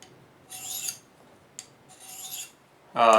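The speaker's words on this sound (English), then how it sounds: "stroke it across the sharpening stone, counting as you go." Two slow, even scraping strokes of a long-beveled field knife drawn across a sharpening stone, close and clear with a short tap between, followed by a louder tonal sound at the end.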